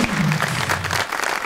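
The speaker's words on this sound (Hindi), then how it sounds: "अरे तालियां" Studio audience applause at a Pakistani TV talk show, a dense steady patter of clapping lasting about a second and a half with a low hum underneath and no talk.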